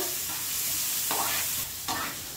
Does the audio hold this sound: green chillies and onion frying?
yes